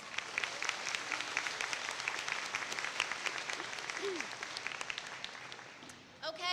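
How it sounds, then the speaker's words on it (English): Applause from the audience at a high school moving-up ceremony, a steady, moderately distant patter of many hands clapping in a large room, fading slightly toward the end with faint voices beneath. "Let's give them a round of applause"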